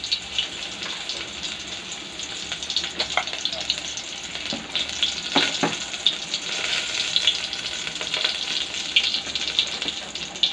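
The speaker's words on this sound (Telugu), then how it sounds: "రెండు టేబుల్ స్పూన్ల ఆయిల్ వేసుకొని అలాగే దానిలో వెల్లుల్లిపాయలు కొంచెం మెంతులు వేసుకుంటాను" Garlic and fenugreek seeds sizzle steadily in two tablespoons of hot oil for a village-style brinjal curry, a dense close crackle with occasional sharper pops, with no voice over it.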